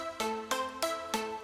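Nexus 3 synth arpeggiator sounding three separate notes in sequence, each a bright harmonic tone with a sharp attack and sustain, evenly spaced and played alone without any voices.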